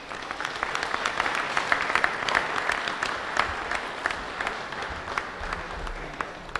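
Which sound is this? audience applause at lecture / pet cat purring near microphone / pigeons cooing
audience applause at lecture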